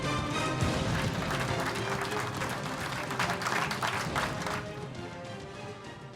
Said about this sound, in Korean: 우리 육군 포병에게 힘찬 격려의 박수를 부탁드립니다